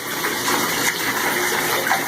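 Pet ducklings splash and paddle in water close by, making a continuous watery gushing and sloshing sound with no talking.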